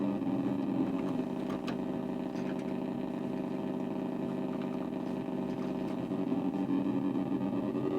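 Steady, droning synthesized engine tone from a VIC-20 driving game, holding a continuous mid-pitched buzz at even loudness throughout with faint electronic blips layered on top.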